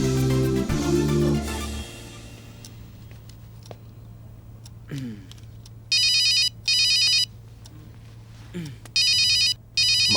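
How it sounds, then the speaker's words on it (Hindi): A phone rings with an incoming call from mother, sounding as short bursts of electronic ringtone that repeat twice in a quiet room, without speech. "माँ का फोन आ रहा है।"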